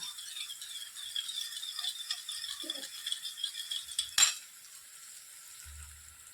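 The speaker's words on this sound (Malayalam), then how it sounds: "ഇനി ഈ സ്പേസിലേക്ക് നേരത്തെ എടുത്തു വെച്ചിട്ടുള്ള മുട്ട നന്നായിട്ടൊന്ന് ബീറ്റ് ചെയ്ത് ചേർക്കാം" Beaten egg frying in a pan beside vegetables, a faint high crackling sizzle with a sharp clatter partway through before the sizzle quiets.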